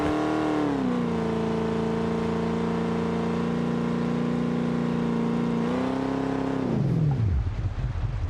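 A car engine in BeamNG, a drag car with locked diffs set in 4 high, holds a steady loud idle-like drone, dips and rises once, then revs up and cuts off sharply near the end.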